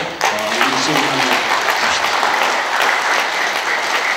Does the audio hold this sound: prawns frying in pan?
no